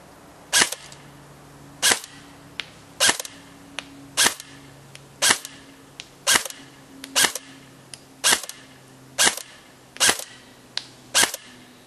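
Snow Wolf M99 airsoft sniper rifle firing repeatedly at a 100-foot range, about ten sharp, close cracks spaced roughly a second apart over steady low background noise.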